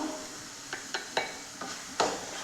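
Chili and turmeric powder being stirred into a beetroot and date pickle in a pan, with a handful of sharp scraping knocks from the spoon against the pan over a low background hiss; no talking.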